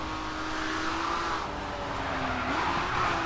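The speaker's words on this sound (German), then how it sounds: "Richtig schön in die Kurven gedriftet und viel Power auf jeden Fall noch hinterher" Car drifting through a corner in the racing game GRID 2, a sustained loud tire squeal over a continuous engine roar, holding steady with a slight pitch shift near the end.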